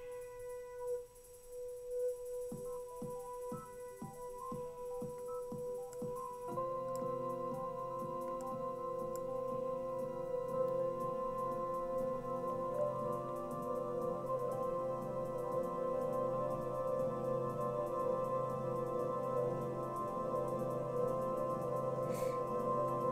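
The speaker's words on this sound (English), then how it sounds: "this is what this might sound like with the infinity reverb stretched out as far as it'll go" A synth plays a run of repeated short notes through an Airwindows infinity reverb set to maximum, smearing into a long, sustained reverberant wash with a bright, open filtered tone, slowly hanging on.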